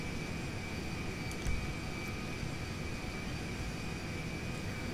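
A steady, airplane engine drone fills the background as a plane takes off in GTA 5, holding an even roar throughout with a faint tick midway and no voices.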